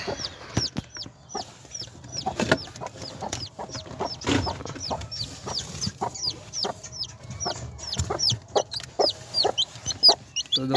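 A hen clucks over and over close by amid scratching and rustling in a coop, with short repeated calls throughout.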